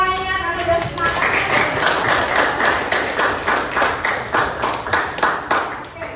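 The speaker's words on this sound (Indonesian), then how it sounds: "Tepuk tangan untuk semuanya karena udah semangat." A group claps together after a teacher calls for applause in a classroom lesson, loud, steady rapid claps with a few rhythmic accented beats, and voices faintly mixed underneath.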